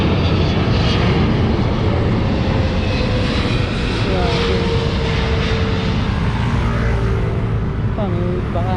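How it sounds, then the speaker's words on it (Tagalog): An EVA Air airplane passes overhead with a loud, continuous engine roar that fills the scene near a road construction site, while a person talks over it. "Aeroplano, Eva Air."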